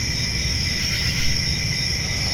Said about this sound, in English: The sweet, relaxing sound of crickets.